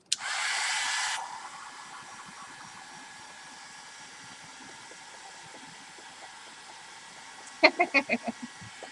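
A hair dryer or heat tool drying paint on a canvas blows loudly for about a second at the start. A quiet room tone follows, and a short burst of rhythmic sound comes near the end.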